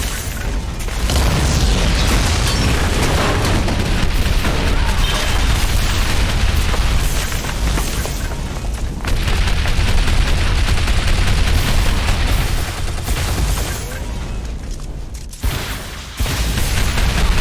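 Rocket explosions in Shadow Complex, a continuous barrage of loud booms and bursts layered into a dense rumbling roar, with brief dips before the blasts resume.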